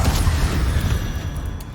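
Fire spell cast in Hogwarts Legacy, a dense roaring whoosh of flame that fills the space with a low rumble for nearly two seconds, steady and close.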